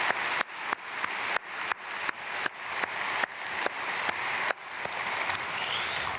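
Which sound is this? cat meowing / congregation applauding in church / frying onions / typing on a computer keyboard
congregation applauding in church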